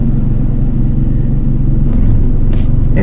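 A used car engine idles low at around 600 RPM, a steady throbbing rumble with a slightly uneven pulse, close and alone, with a few brief higher ticks near the end.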